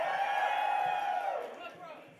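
An audience at a fan convention concert lets out a loud, sustained whoop and cheer that swells at first and then fades away over a couple of seconds.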